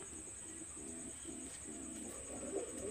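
A single Maya pigeon coos in soft, repeated low phrases close by, with a steady thin high-pitched whine running underneath throughout.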